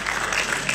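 Dense, continuous hand clapping from a group at a Quran school gathering, a close, even wash of claps with no pauses.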